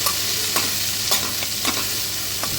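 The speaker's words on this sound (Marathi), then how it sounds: "इकडे ढोबळी मिरची परतली जाते" Capsicum sautés in a hot pan with a constant sizzle, punctuated by several quick spatula taps and scrapes, close up and without any voices.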